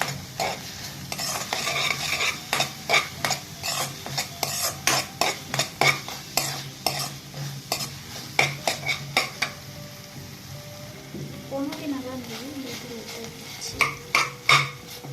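Food being stirred with tomato sauce in a hot pan, rhythmic metal spoon scrapes and clinks over a steady sizzle, with a brief murmur of talk partway through.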